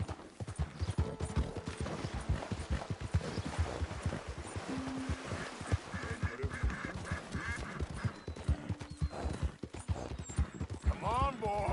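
Horse hooves clip-clop at a gallop in Red Dead Redemption 2, a fast rhythmic patter throughout, with a voice urging the horse on over the top.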